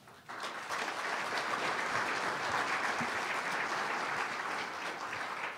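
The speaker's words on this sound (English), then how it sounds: "I heard a big burst of applause a moment ago" Audience at a K-State athletics news conference breaks into sustained applause, a steady wash of many hands clapping from start to finish, fairly distant and even in level.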